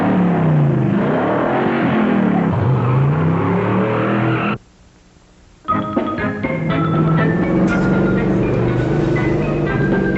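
A car engine hums and revs loudly at close range, rising and falling in pitch, cuts out briefly, then resumes with a steady drone.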